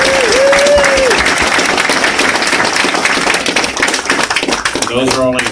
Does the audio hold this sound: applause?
yes